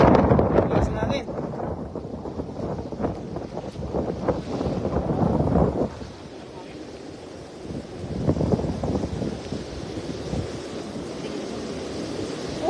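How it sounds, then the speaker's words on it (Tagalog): Strong wind buffets a small fishing boat at sea in rainy weather, a loud, rough roar of gusts and waves that drops briefly and then builds again, with voices talking over it. "Lakas ng hangin."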